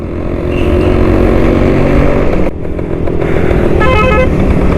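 Suzuki Shogun motorcycle engine running at close range, a loud steady two-stroke drone with a brief dip midway and a short horn-like tone toward the end.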